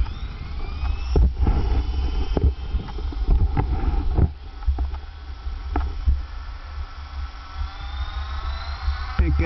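HK 450 RC helicopter at a flying field on a calm day, its rotor spinning up into a steady, rising whine, close and fairly loud, with a low rumble underneath and a few bumps and knocks.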